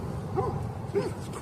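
Two short barks from a dog ring out at moderate distance, spaced about half a second apart over a quiet outdoor background.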